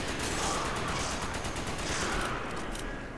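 Dense rapid gunfire rattles continuously in the video game Resident Evil 5, loud and sustained like a machine-gun fusillade.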